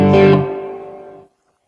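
A distorted electric guitar, heavy with effects, plays a verse riff: a single thick, sustained chord-like phrase that rings out loudly and then cuts off abruptly.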